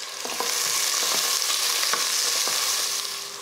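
Onions frying in hot oil with cinnamon and cloves in a pressure cooker for chicken biryani, a loud continuous sizzle with repeated scraping stirs of a spatula, close up, no talking.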